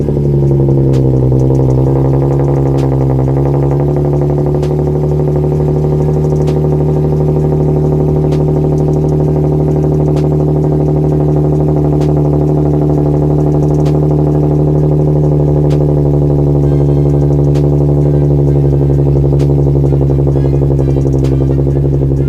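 Cold start of a 2014 Nissan 370Z engine, a loud steady idle that settles from a slightly higher pitch into a deep, even rumble, heard close up with faint ticking over about twenty seconds.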